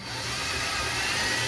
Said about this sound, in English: Pre-drill for the screws.